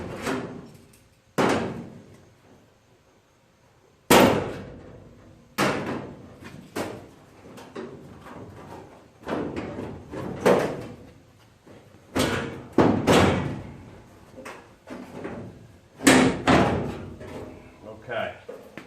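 A firewall panel on a 1968–73 Pontiac GTO A-body car is unclamped and dropped down, producing a series of sharp metallic clunks and thuds spread out in a quiet workshop.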